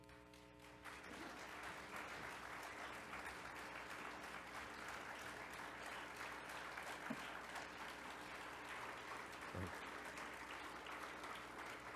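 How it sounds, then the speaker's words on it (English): Sustained audience applause at a Rotary summit closing session as a past president is introduced, a steady dense clapping wash throughout, fairly distant and even, with faint voices now and then. "thank you for the very humbling applause"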